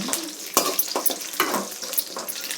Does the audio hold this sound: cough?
no